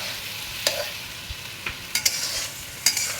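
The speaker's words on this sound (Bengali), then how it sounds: "দিয়ে একটু ভালোভাবে নাড়াচাড়া" A spoon stirs a cornflour mixture into a simmering sauce in a pan. It gives a few sharp scrapes and clinks over a soft, steady sizzle, with no talk.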